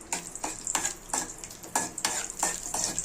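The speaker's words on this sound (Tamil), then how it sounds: "இப்போ முந்திரி நல்லா பொன் வறுவலாக வறு வதங்கியிருக்கு" Cashews frying in ghee in a kadai for apple kheer: a steady sizzle with a spoon scraping the pan in regular bursts about three times a second. No one speaks.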